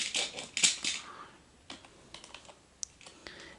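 Keys clack on a computer keyboard in a quick burst of close, crisp strokes, then slow to scattered individual taps, with no one talking.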